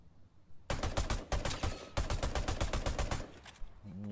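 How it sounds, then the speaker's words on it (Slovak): Rapid automatic gunfire in a multiplayer shooter video game, sharp bursts of evenly spaced shots fired in two long volleys with a short gap between, loud and close with no talk over it. "Už strieľajú."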